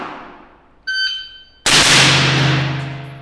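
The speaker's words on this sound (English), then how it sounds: "Mike's gonna bring the gun up from the bottom, and he's gonna fire 2 rounds" Two sharp rifle shots are fired from low ready, close and loud, less than a second apart, each followed by a brief metallic ring.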